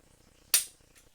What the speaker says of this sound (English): So you can see each time that you fire this, or that you simulate firing